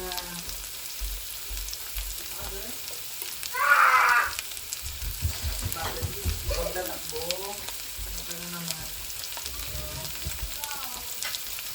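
Ginger and onion sizzle in a hot pan while cooking Bicol Express, a steady frying crackle with a louder burst as they hit the oil, then continuing hiss with light stirring.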